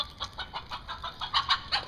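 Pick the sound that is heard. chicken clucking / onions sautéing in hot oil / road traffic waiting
chicken clucking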